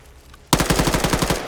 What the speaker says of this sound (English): only heard the gunshots.